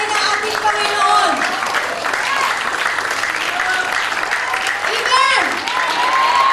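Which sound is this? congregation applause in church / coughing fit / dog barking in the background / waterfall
congregation applause in church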